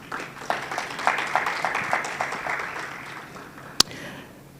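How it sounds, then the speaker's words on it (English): An audience at a high-level policy dialogue panel applauds a panelist, a moderate burst of clapping that swells, then gradually thins and fades, with one sharp knock near the end. "A hand clap for Dr. Alexis."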